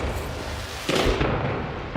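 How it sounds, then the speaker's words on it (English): A firework burst inside the No Man's Sky game, a single sharp crackling bang near the middle followed by a fading sizzle over a constant background hum. "Fireworks for a new guy."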